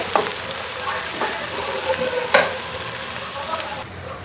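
Okra (bhindi) sizzles steadily in a pan as bhendi bhaji, a constant loud crackling hiss with occasional stirring clinks, heard close and without talk.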